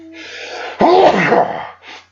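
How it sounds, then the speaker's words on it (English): A single loud, close sneeze bursts out from a person outdoors near a fence line, preceded by a brief inhale and followed by a short breath. "oh man, I sneezed"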